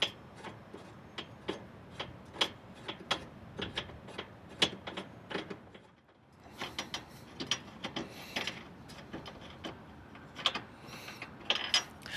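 Wing bolts being turned loose on a JOYTUTUS cargo rack: a close, quiet run of irregular clicks and ticks with small metallic rattles, pausing briefly midway and then picking up again.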